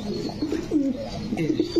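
A pair of large-sized pigeons coos in a repeated, low, rolling pattern, fairly close and continuous across the short stretch, with faint background noise.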